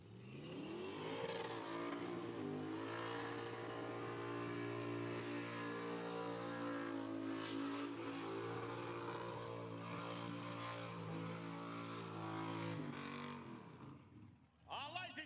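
Burnout by a car driven by a 15-year-old at a burnout event: a loud, sustained engine roar held at high revs with steady harmonics for about thirteen seconds, then dropping away near the end.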